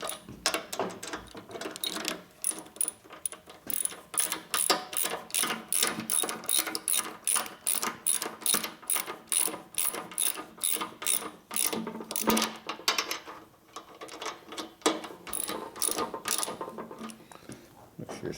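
Ratchet tightening the fork bolts on a 2004 Harley-Davidson FLHT Twin Cam touring motorcycle during a suspension rebuild, giving a long run of quick, even clicks at close range that carries on steadily with only brief pauses.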